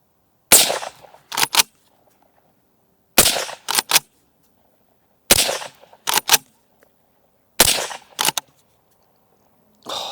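Browning Maral 4X Hunter rifle firing Gecko ammunition at a target 75 yards away outdoors: four loud, sharp shots spaced about two and a half seconds apart, each followed by the metallic clack of the straight-pull action cycling.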